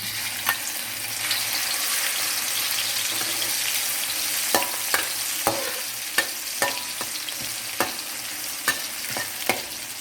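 Chili and garlic stir-frying in hot oil in a wok, a loud steady sizzle broken by sharp scraping clacks of the spatula at an irregular rhythm, close up and without speech.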